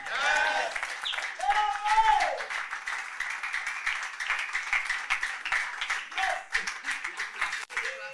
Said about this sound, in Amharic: አምስተኛ የሆናችሁ ማጨብጨብ ከወዳችኋል።